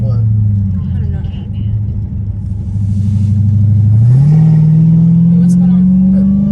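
An 800 hp Dodge Hellcat Redeye accelerates hard with a loud, close engine roar that holds steady, then climbs sharply in pitch and keeps building to the end.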